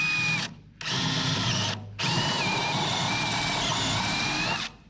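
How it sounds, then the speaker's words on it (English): Power drill bores out spot welds on a 1976 GMC truck panel, a loud steady whine in two long bursts separated by brief pauses, close up and alone. "After we drill these ones, right there you can easily see a spot weld."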